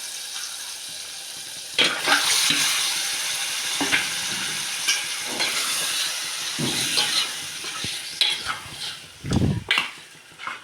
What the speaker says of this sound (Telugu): ఇప్పుడైతే నేను మసాలా అయితే వేసుకుంటున్నాను.